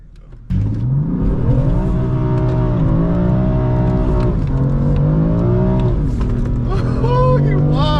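A BMW M4 engine revs hard on a rainy day, its tone climbing and falling through several close, loud throttle surges, ending in a higher whine.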